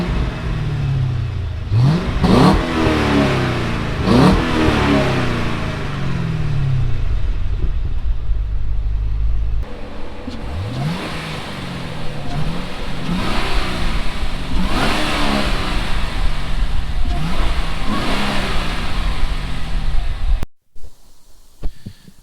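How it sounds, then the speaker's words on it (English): Supercharged Cadillac CTS-V engine revving hard in repeated sharp throttle blips, each rising and falling, loud and close with a steady idle between revs, cutting off abruptly at the end. "get some sound of the supercharger, which is really quiet"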